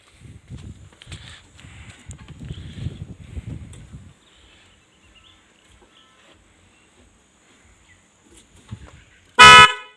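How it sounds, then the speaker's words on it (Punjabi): A single short, loud horn blast from a Sonalika 750 sounds near the end, following quiet rumbling and scattered outdoor noise. "ਹਾਰਨ ਮਾਰ ਕੇ ਦਿਖਾਵ"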